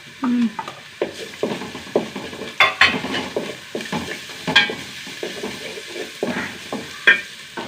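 Ginger-garlic paste frying in a pan, with repeated spoon scrapes and taps against the pan over a faint sizzle, irregular and close.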